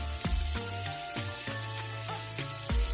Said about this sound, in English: Time to add your pork and start stirring it in with the bacon grease and get that all nice and browned up